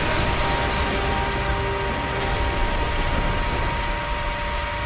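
In Call of Duty Modern Warfare 3, a helicopter roars with a loud, steady rotor and engine drone, the heavy mechanical noise continuous and close.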